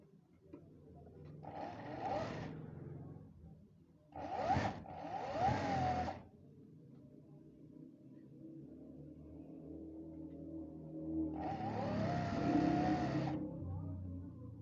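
A sewing machine stitches palazzo pant fabric in three short whirring runs with quiet pauses between them, faint and close by.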